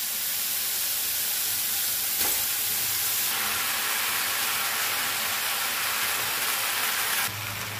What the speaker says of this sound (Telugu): ఇప్పుడు కట్ చేసి పెట్టుకున్న మష్రూమ్స్ అన్ని ఇందులో యాడ్ చేసుకోవాలి.